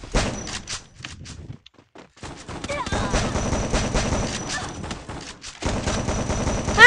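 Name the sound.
gunfire in the video game Free Fire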